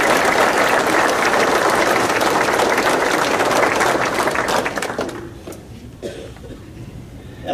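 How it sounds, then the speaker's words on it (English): An audience at an agricultural conference applauds loudly and steadily for about five seconds, then the clapping thins out and dies away, leaving a quiet room. "Please help me give them a round of applause."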